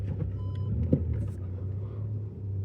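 A Volkswagen Tiguan R-Line accelerates, its engine giving a steady low rumble heard from inside the cabin, loud and continuous with a faint brief thump partway through.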